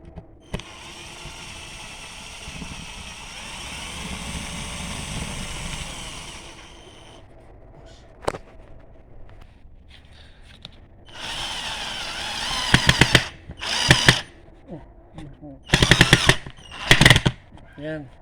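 A Yojimbo 20V cordless drill whirs steadily at close range, then cuts out. Short bursts follow as the drill is switched to screw mode and driven again, with voices talking in the background.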